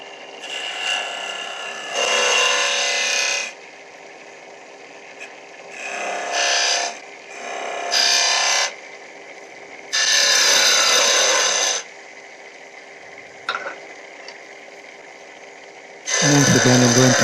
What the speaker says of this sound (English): A bit of shear scraping to refine the shape.